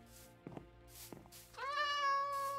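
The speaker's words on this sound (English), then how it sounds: "And all the kitty cats." Minecraft cats meowing in the video game, a couple of short soft chirps followed by one longer, clear, drawn-out meow, close and alone over a faint background hum.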